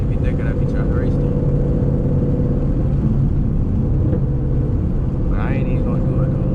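Loud Ford Mustang GT S197 engine and exhaust heard from inside while driving, a constant deep, throaty rumble with people talking over it.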